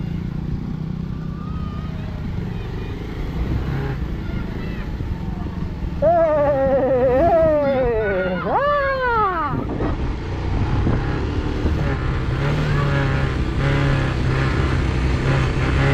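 A motorcycle rides through the Darjeeling hills, its engine droning steadily under constant road and wind rush, with a few clear revs rising and falling in pitch near the middle.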